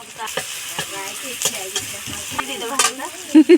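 Potato, eggplant and fish frying in a pan for a village-style fish curry, a steady crackling sizzle with stirring scrapes, a couple of louder clinks near the end and faint background voices.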